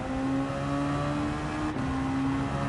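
A race car engine in Gran Turismo 7 holds a steady high whine, with a brief dip in pitch partway through as if shifting or lifting off the throttle, then the drone resumes.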